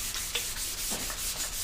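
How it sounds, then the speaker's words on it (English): Sandpaper wet sanding a painted panel with mixed cross strokes, a close, steady gritty rubbing with short rhythmic scrapes. "keeping my sanding mixed up, a little bit of a cross action."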